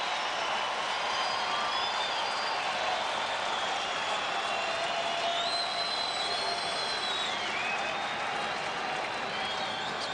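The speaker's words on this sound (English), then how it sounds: "this crowd has gotten into it a little bit for the Diamondbacks" A baseball crowd cheers for the Diamondbacks at a home game against the Cardinals in 2008, a steady, dense roar of many voices that holds at an even level throughout with no clear individual words.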